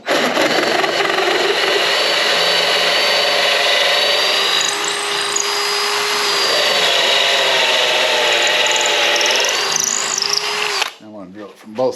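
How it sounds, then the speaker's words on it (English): A power drill bores a hole through a wooden birdhouse panel, a loud, steady whining grind lasting about eleven seconds with pitch shifts as the bit cuts, then cutting off abruptly. "we're going to go ahead and drill this out"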